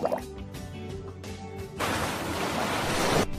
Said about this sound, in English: It's stormy. Don't go outside.